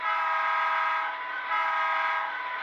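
Sustained multi-tone horn from an Athearn SD70M HO model locomotive in Union Pacific livery fitted with a Tsunami sound decoder, a steady, bright electronic chord held for over two seconds with a slight dip in the middle.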